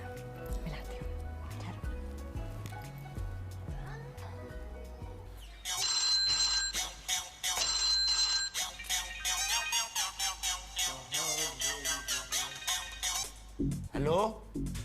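A telephone rings after a number is dialed, first with a low rhythmic tone pattern and then a bright electronic ringtone repeating in steady pulses, loud and close, with music underneath.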